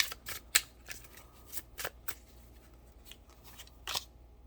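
Tarot cards are drawn and shuffled during a card reading, a handful of crisp papery snaps and swishes at irregular intervals, fairly quiet and close, with no talking over them.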